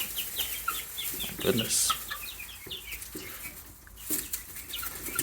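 Leghorn chicks crowd a brooder, with many high, rapid peeps scattered throughout over a soft background rustle and bumps. A person talks briefly.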